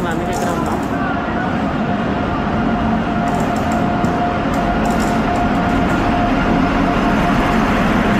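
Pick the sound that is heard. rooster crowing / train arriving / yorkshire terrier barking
train arriving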